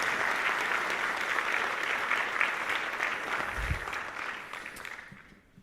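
Sustained applause from a room of guests at a tech center student banquet, a dense steady wash of clapping that fades out near the end.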